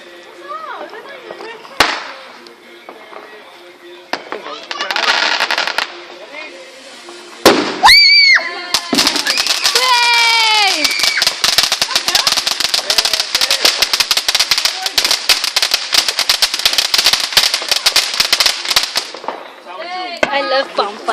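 Bonfire night fireworks and firecrackers go off nearby: a few early pops and whistles, then a sharp bang and a long, dense barrage of rapid crackling that lasts around ten seconds before fading to more whistles.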